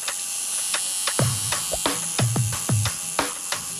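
Tattoo machine buzzing steadily in a busy tattoo shop while a needle inks skin, with short clicks and mechanical pulses breaking up the continuous whine, close and alone.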